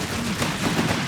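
Machine gun fire in the World War II strategy game Company of Heroes 3 rattles as a continuous, fairly loud stream of rapid shots with no pauses across the short burst.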